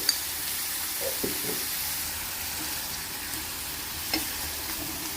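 Salt and turmeric are stirred through bottle gourd curry in a pan: a soft, low sizzle runs throughout, with a few scraping stir strokes near the start and one more toward the end, and no voices.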